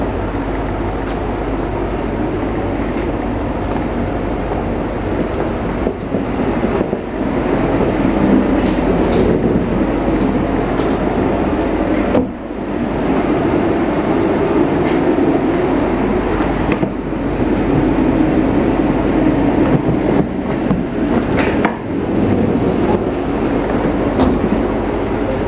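An ICMm 4250 train pulls into Bovenkarspel-Grootebroek railway station with a loud, continuous rumble and rail clatter lasting about 25 seconds, easing briefly midway before rolling on again.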